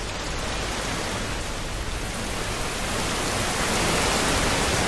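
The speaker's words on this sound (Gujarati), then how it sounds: "વરસાદ ધીમી ધારે પરંતુ સતત વરસી રહ્યો છે" Light but steady rain falls over Valsad, a dense, even hiss of drops that holds at a constant level throughout with no voices.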